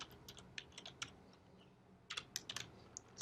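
Fingers tap a computer keyboard while country names are typed into code. The keystrokes come in quick, irregular bursts of light clicks with a short pause between them. Faint and close, with no talk.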